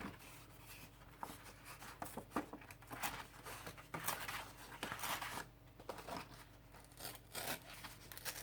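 Paper being torn by hand for an art journal page, a series of close, dry ripping and rustling bursts in an irregular rhythm, quiet and alone with no talking.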